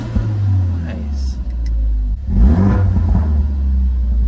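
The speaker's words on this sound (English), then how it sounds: "You can hear the turbo whistle a little bit." A Ford Focus RS with an aftermarket exhaust revving, a deep rumbling idle that rises into a sharp rev and a second swelling rev, with a faint high whistle appearing briefly, close and loud.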